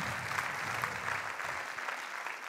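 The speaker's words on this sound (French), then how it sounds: "Oui, on peut applaudir Xavier." A conference audience in a hall applauds a speaker named Xavier, with steady, even clapping from a sizable crowd continuing throughout.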